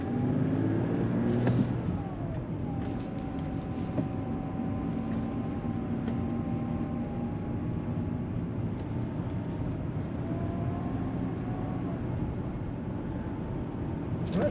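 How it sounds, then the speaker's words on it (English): Interior cabin sound of a BMW E90 328i on a test drive: steady engine drone and road rumble with a faint, gently shifting engine tone, a brief knock near the start, no talking. "let's go for a drive and see how she sounds"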